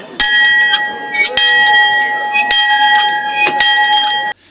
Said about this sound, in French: je suis préposé à faire la cloche.